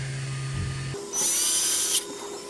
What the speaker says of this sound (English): So these bolts need to be tightened.